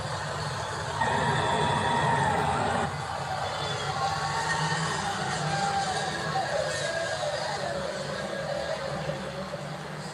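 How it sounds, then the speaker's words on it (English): A large baseball stadium crowd cheers and roars steadily after a strikeout, a dense wash of voices holding loud for the whole stretch with a brief surge near the start. "Oh, listen to that crowd."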